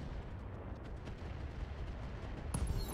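Mech weapons fire in the RogueTech battle game, a dense rumbling barrage of booms and bursts rolling throughout, with a sharper, louder blast near the end.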